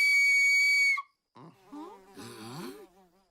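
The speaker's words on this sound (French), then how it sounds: "Ça, c'est une flûte pour appeler Raymond. Qui? Le vaso. Je siffle," A shrill flute whistle, blown to call an animal in a cartoon, holds a single steady note for about a second, then animated voices follow.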